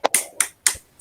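Sharp hand claps of a 'tepuk semangat' classroom clapping routine led by a teacher, struck in a steady rhythm of about five crisp, close beats with short gaps between them.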